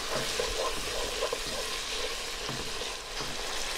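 Browned meat with spices stirred in a hot frying pan for beefaroni, a steady close sizzle broken by soft scraping strokes of the spoon, with no talking.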